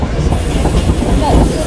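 A heritage railway train rides through Warsaw, Poland, heard from inside the carriage as a loud, close rumble and rattle with a faint wheel squeal.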